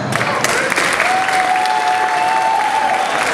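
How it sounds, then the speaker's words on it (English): Crowd applause at a ringside boxing event, a steady loud wash of clapping filling the space, with a faint tonal hum running beneath it partway through. "Our timekeeper at ringside, give a round of applause."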